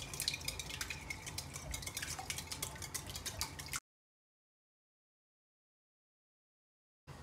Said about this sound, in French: Ensuite, je rajoute l'huile. Je mélange.